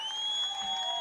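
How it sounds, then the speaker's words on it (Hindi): A crowd at a political rally at Azad Chowk in Aurangabad applauds and cheers, a continuous wash of clapping under a loud steady tone, heard from a distance. "जोरदार तालियों से उनका इस्तकबाल कीजिए।"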